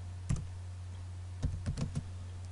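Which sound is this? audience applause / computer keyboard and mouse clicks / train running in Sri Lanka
computer keyboard and mouse clicks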